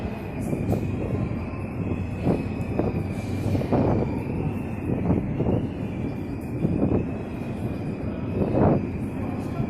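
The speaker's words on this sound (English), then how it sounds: "Here comes the train, I can hear it." A London train, a Networker unit, approaching along the line: a continuous rolling rumble with a steady high wheel squeal and rhythmic clatter from the wheels over rail joints, sustained and fairly loud with no one speaking.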